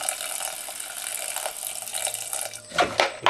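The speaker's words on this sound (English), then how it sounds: "Let's fill that up. It's basically washing and moisturizing and soaking in one." Water runs into a sprouting jar of seeds, a soft steady splashing stream that swells into louder gurgling near the end, close and alone.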